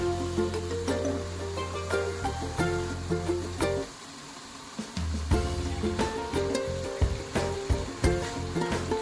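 Fish pieces go one by one into a hot pan of oil for a fish curry. Each drop brings a fresh burst of sizzle, with clattering taps over a low, steady background hum.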